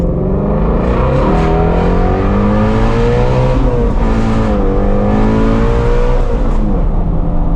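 A Ford Mustang Shelby GT350R accelerates hard with its tires spinning, the engine roaring loud and close in one continuous, rising and falling howl, with no voices.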